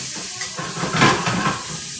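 Garlic sautéing in a sauté pan, a close, bright sizzle and hiss with light stirring and scraping that swells briefly in the middle of a short burst, with no voices.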